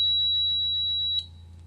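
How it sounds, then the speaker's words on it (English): A solar-powered Firefinder wildfire-detection device sounds its alarm after its button is pressed: a steady, high-pitched electronic tone over a low hum that cuts off abruptly with a small click. "When you press this button, it will signal the fire department and send a loud alarm to alert people."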